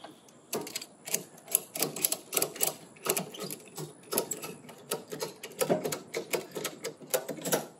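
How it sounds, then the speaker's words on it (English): A ratchet strap is cinched tight on a Cabela's ATV spreader mounted on a four-wheeler. Rapid clicking bursts repeat close and fairly loud, in an uneven rhythm, with no talking over them. "and then you cinch it, and you'll actually see it come forward."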